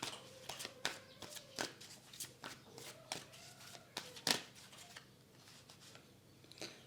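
Tarot cards handled and laid down on a surface during a reading, a faint, close series of soft slaps, flicks and rustles in an irregular rhythm.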